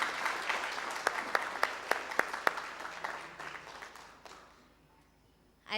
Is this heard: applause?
yes